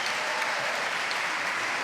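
Steady crowd applause after a passing shot at a professional padel match in San Sebastian, a dense, even wash of clapping that holds for the whole moment without a break.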